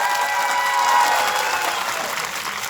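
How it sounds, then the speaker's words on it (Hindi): Loud, steady applause from a crowd at an outdoor protest sit-in, welcoming a speaker. The clapping is dense and continuous for a few seconds, with faint cheering mixed in. "जोरदार तालियों से स्वागत"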